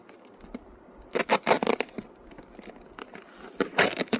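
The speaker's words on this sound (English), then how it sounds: "let's see if the tuck tape comes off without cutting" Tuck tape being peeled off a plastic milk jug used for winter sowing seedlings, giving bursts of close, loud tearing and crinkling strips with brief quieter gaps between pulls.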